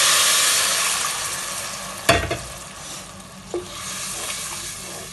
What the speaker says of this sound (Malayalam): ഈ സമയത്ത് ഞാനിവിടെ തിളപ്പിച്ച ഒരു 1/2 ലിറ്റർ പാൽ ഇതിനകത്തോട്ട് ഒഴിച്ചു കൊടുക്കുകയാണ്